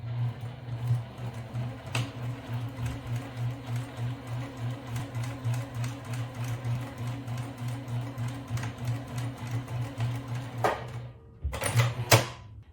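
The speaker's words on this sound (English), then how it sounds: "We're here at the sewing machine, and we're gonna start to sew." A sewing machine stitches a DIY lunch bag with a steady, rapid mechanical whir, its rhythmic pulsing running continuously at close range before a few sharp clicks and knocks near the end.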